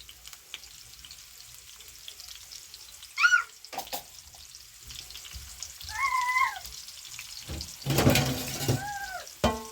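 Onions for an egg stew cook in a pan with a soft, steady sizzle and a few sharper stirring clatters, while a cat meows several times nearby.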